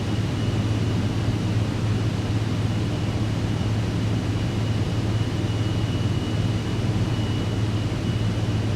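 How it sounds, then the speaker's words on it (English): A steady, loud engine drone and airflow roar from an aircraft in Microsoft Flight Simulator 2024 as landing gear and flaps are lowered on approach, an unbroken rumble without distinct mechanical clunks. "let's go ahead and put down our landing gear, give the aircraft some more speed. Go ahead and add some flaps."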